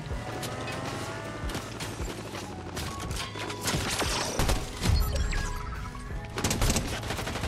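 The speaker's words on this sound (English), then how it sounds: "Somebody's shooting." Gunfire during a Fortnite zero build match, with bursts of shots cracking in and out against a steady background of game noise, growing heavier and louder toward the end.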